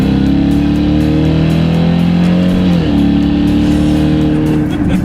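Jaguar XFR V8 with a stock exhaust burbles loud and close, holding a steady engine drone that dips and then rises again as it revs.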